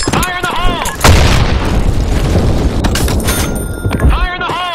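A loud grenade blast in a capture-the-flag video game bursts in with a heavy boom and rumbling debris, surrounded by game gunfire and short electronic tones, with a voice calling out briefly.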